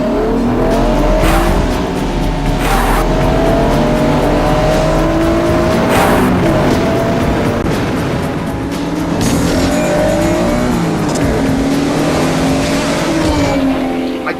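Loud race car engines roar past one after another, whining and revving continuously with some tire noise, close and intense throughout.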